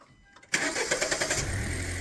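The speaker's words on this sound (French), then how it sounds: "On a changé les capteurs, lance le moteur." A car engine cranks briefly and catches, then settles into a steady, loud, rumbling idle, heard close up in a workshop setting with no talking.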